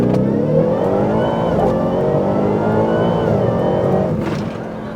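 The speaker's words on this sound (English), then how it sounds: "Hey, do you care if I rip your truck around the block?" A supercharged Ford Raptor R pickup with a Whipple supercharger revs hard and accelerates, its loud, close engine droning and climbing in pitch for several seconds before easing off near the end.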